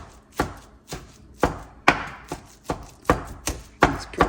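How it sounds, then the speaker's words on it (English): A knife chops chicken breast mixed with spinach and cream cheese on a cutting board. About ten sharp, close strikes land in a steady, even rhythm, with no talking. "the way I'm chopping it up right now"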